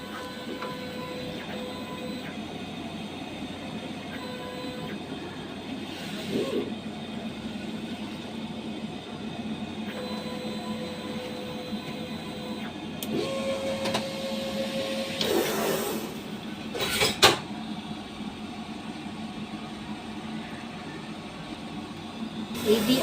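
A DTF printer runs a head clean and nozzle check, a steady mechanical hum with faint whirs, ticks and a few louder clunks as the print head moves, with brief voices in the background.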